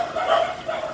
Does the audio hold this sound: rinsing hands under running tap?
no